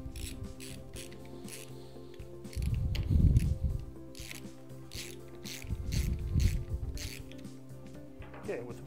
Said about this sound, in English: we're going to remove the four bolts from the end of the cover